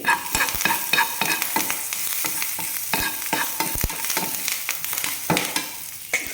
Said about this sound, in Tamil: நீங்கள் டேரெக்டாக இதில் கருவேப்பிலை போட்டாலும் சரி, இல்லைன்னா இதில் போட்டுட்டு வறுத்து போட்டாலும் சரி.